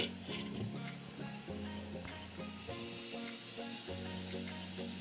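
Radish kofta curry simmers in a covered pan over medium-low flame, giving a steady close sizzle and bubbling with soft clinks and taps throughout.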